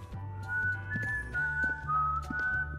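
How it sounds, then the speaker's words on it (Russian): A ghost in the horror game White Day: A Labyrinth Named School whistles a slow, wavering tune, clear and fairly close, with faint low game ambience and no talking. "Свистит он как призрак."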